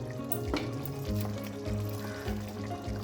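Aloo potol shrimp curry with garam masala is stirred in a pan, a soft crackling sizzle of frying broken by intermittent scraping strokes of the spoon, quiet and close, with no talking.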